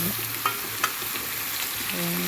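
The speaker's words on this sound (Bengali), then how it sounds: "মাছটি ভালো করে ভেজে নিই" Small fish fry in hot oil in a pan with a steady broadband sizzle. A few brief clinks and scrapes of stirring sound over it.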